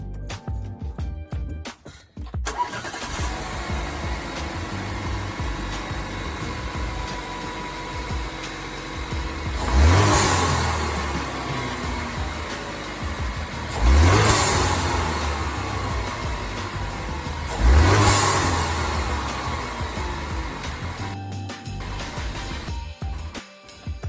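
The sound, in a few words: Cadillac ATS 2.0 engine starting and revving, stock intake tube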